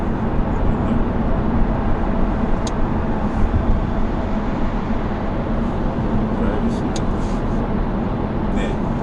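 Audi A4 35 TDI diesel cruising at 80 km/h in efficiency mode at low revs, a steady broadband road and engine rumble heard from inside the cabin without a break.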